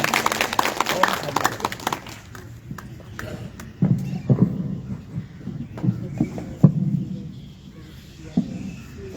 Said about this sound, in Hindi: तो जोर से ताली बजा के उनका आज के सत्र के हम स्वागत करेंगे।